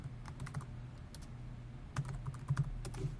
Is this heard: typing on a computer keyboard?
yes